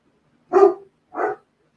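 Dogs give two sharp barks in quick succession, loud and close, set off by fireworks and heard against an otherwise silent room.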